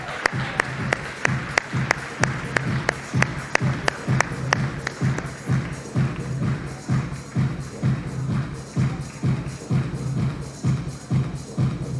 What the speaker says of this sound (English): please welcome on stage with a warm round of applause